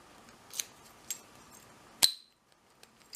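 A CISA 60mm five-pin shutter padlock gives faint small clicks as its key turns, then one sharp metallic clack as the plug rotates, followed by near silence and a few tiny ticks.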